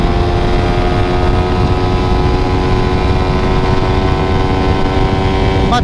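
Suzuki Satria FU fuel-injected motorcycle engine held at high revs, a steady loud buzzing drone with stacked harmonic tones throughout, climbing slightly near the end.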